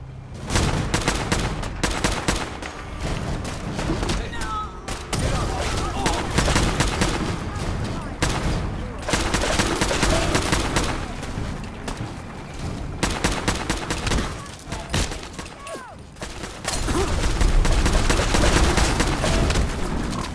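Dense, sustained gunfire from many weapons opening up together on an order to fire at will during a fight against attackers in fog, loud volleys and rapid shots running continuously with shouting voices mixed in.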